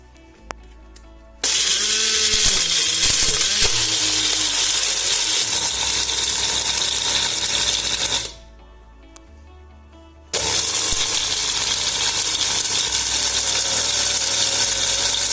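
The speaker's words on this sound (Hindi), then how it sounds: "केले के छिलकों को कट करके हमने जो धूप में सुखाया था, उसे हम ग्राइंडर मिक्सर में डाल करके पाउडर बना लेते हैं।" Sun-dried, cut banana peels are ground into powder in a grinder mixer, which gives a loud, steady high-pitched whir that stops for about two seconds and then starts again.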